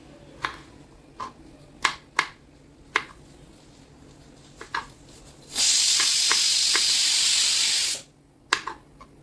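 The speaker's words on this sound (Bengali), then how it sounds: "ভিন্ডি আলু ভাজা করবো এখন।" Young okra sizzles as it fries in hot oil in a home kitchen. A burst of loud hissing lasts a few seconds, set among scattered sharp clicks and taps.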